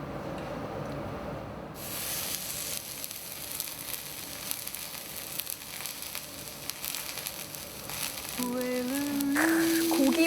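Loud sizzling hiss starts abruptly and continues steadily as meat sears on a hot grill plate at a Korean barbecue restaurant, with a faint tonal whine rising near the end.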